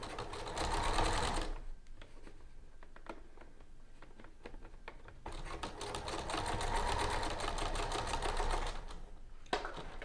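A sewing machine runs in two long, steady bursts, edge stitching a fabric pocket band for a smocked City Frock dress, with a short pause between runs filled by faint handling clicks.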